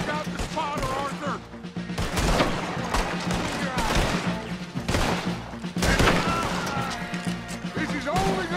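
Red Dead Redemption 2 battle around a hilltop cannon: dense volleys of rifle and gunfire crack in overlapping bursts with heavy thuds and crashes, loud and chaotic, while characters shout over the fighting.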